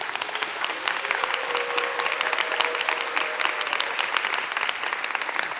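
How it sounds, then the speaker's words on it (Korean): An audience at a choir seminar reading session applauds the arranger, a dense, steady burst of clapping from many hands that holds at even loudness throughout. "예, 박수 한번."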